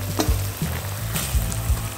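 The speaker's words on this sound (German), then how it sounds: "Und dann lasse ich es noch etwas weiter brutzeln, bis die ganze Flüssigkeit verdampft ist." Mushrooms dusted with paprika powder sizzle steadily in a frying pan, a loud close crackle with a few stirring scrapes and no voices.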